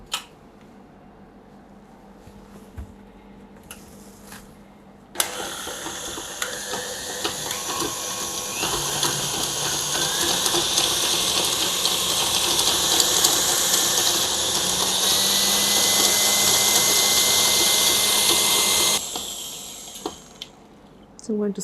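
Electric mixer softening shortening for buttercream switches on abruptly and whirs with a steady, loud motor hum and rattling beater noise for about fourteen seconds before cutting off, with quiet clicks before and after.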